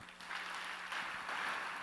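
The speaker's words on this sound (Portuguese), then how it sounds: "Aplauda o Senhor" A church congregation applauds at a sermon, a soft, sustained wash of many hands clapping at a distance.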